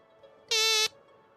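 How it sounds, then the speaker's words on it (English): A single short electronic voicemail beep, a bright buzzy tone lasting about a third of a second, loud and alone against near silence. "Please leave a message after the beep."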